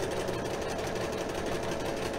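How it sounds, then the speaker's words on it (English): A sewing machine stitches a quilt seam with a continuous fast mechanical whir and rapid needle chatter, close and steady, with no pauses. "keeping your fabric just lined up right next to that line on your sewing machine"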